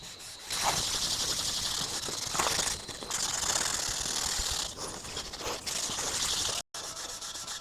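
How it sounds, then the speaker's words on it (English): Rapid, scratchy rubbing strokes of steel wool on a timber cutting board, continuous and close, with a few brief pauses. "It's making it come up really nice, this steel wool."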